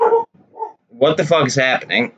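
Dogs bark indoors in a few sharp bursts at the start, then someone talks loudly over the room while the barking fades behind his voice.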